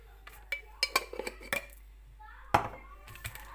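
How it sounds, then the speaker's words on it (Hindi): Eggs whisked in a bowl with salt and black pepper for a cheese omelette: a series of quick close clinks and scrapes of a utensil against the bowl, arriving in short bursts with pauses between them. "अब हम अंडों को बीट कर लेंगे।"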